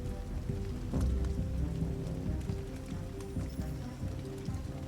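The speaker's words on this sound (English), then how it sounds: "Just standing in the heavy rain." Heavy rain pours in the video game Detroit: Become Human, a steady, dense patter on hard surfaces with low rumbling ambience beneath, constant and moderately loud with no voices.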